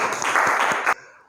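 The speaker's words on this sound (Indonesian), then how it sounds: "Tepuk tangan untuk Mas Pandu, juara kita pada siang hari ini" A short round of clapping for the winning student of a quiz in an Arabic language class, quick and fairly close, cutting off abruptly after under a second.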